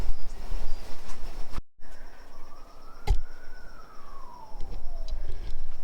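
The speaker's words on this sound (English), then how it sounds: "so we got sirens again" Emergency vehicle sirens wail in the distance, tone rising and falling over ambient outdoor noise, with a sharp knock partway through.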